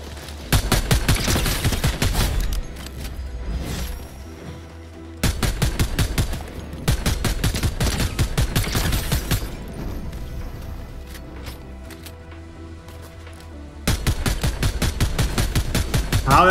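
Automatic gunfire in the Fortnite Zero Build video game, loud rapid bursts of shots in long strings, several separate volleys with brief pauses between them, close and dominant.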